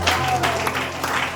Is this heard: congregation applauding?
yes